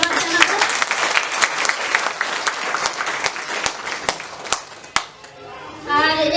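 Applause from a church congregation at a combined Sunday service, a steady wash of many hands clapping with sharp individual claps standing out, fading near the end as a voice begins speaking.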